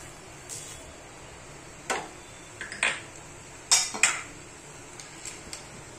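Spoon scraping and clinking against a pan while semolina upma is stirred, a handful of sharp metallic taps and scrapes spread irregularly over quiet kitchen background.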